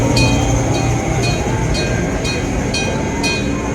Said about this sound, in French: J'adore le charme des petits trains au Japon.